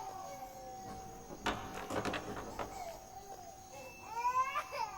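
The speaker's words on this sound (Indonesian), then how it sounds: "Dia kenyang dan popoknya juga sudah bersih, tapi dia terus menangis." A baby cries and whimpers in a few broken sobs that rise into a louder wail near the end, heard indoors at moderate distance over a faint steady background tone.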